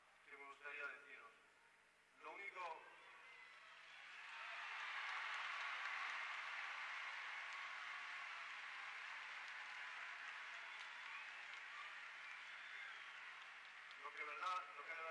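Crowd applause for the King and Queen of Spain at the Cabildo in 1978 swells after a brief voice, holding as a broad, steady wash of many hands before talk returns at the end.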